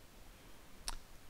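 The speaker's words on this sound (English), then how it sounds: "we'll click on enter" A single sharp mouse click on Enter in CAD/CAM software, one short crisp snap near the end against quiet room hiss.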